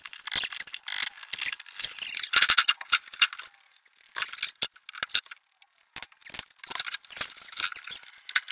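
Drywall screws being driven into drywall with a power driver during a bathroom remodel, heard as repeated bursts of whirring, clicking mechanical noise separated by brief pauses.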